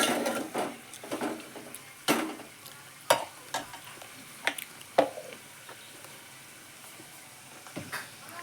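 Ginger garlic paste sizzles in hot oil for a soy chunk curry, with a soft crackle underneath and a series of scraping stirs from a spoon against the pan, close and fairly quiet.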